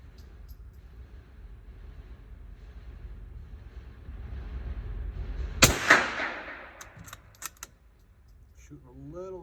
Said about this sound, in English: Shooting the CCI Mini Mags here.